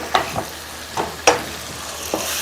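Tomatoes sizzle in a pan while being mashed and sautéed for paruppu urundai kuzhambu, a steady frying hiss with a few sharp spatula scrapes and taps, close and clear, with no voices.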